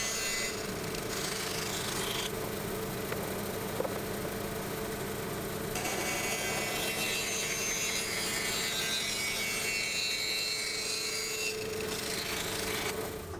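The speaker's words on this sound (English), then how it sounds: "cutting the handles out on the bandsaw" A bandsaw cuts handles for wooden chopping boards with a steady mechanical hum and a continuous rasping cut through the wood, close and constant with no talking.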